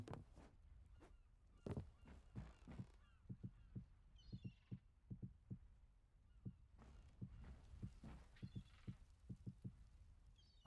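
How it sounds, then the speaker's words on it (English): Seagull-like calls ring out in the video game Metro: Last Light Redux, a run of short, sharp cries repeating in quick uneven bursts at moderate distance, alone with no talk. "So I hear seagulls, but I don't see any."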